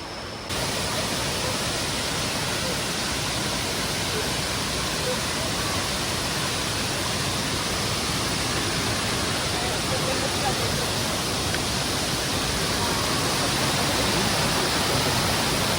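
Huai Kaeo Waterfall in Chiang Rai, Thailand, gives a constant, loud, broadband roar of falling water, dense and unbroken throughout, with no pauses or changes.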